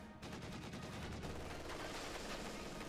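Sustained, dense gunfire from Company of Heroes 2, a flamer squad under heavy fire, with rapid overlapping shots in a steady crackling barrage at a moderate distance, with no voices.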